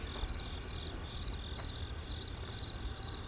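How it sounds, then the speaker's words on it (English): Crickets chirp in steady, evenly spaced trills at a distance, over a soft low outdoor hum. "There are little crickets outside my window"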